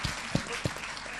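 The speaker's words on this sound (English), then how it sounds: "so we should give big applause for him" Brief applause from a conference audience, a short burst of scattered claps, moderately loud and fading quickly.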